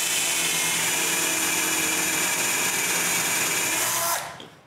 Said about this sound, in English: I can drill both of their holes on the drill press.